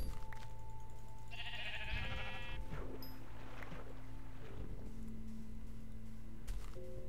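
A sheep bleats in a wavering, buzzy call in a Minecraft UHC match, over a steady droning game soundtrack, with a few other electronic effects around it.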